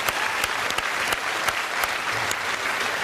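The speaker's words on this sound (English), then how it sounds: "which they clapped" A television studio audience at a comedy panel show applauds, a dense, steady roll of many hands clapping with a few sharper individual claps standing out, sustained throughout at moderate loudness.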